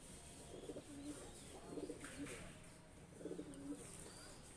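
Pigeons of high-flying breeds coo nearby, with three rounds of low rolling coos spaced a second or so apart over a steady hiss of background noise.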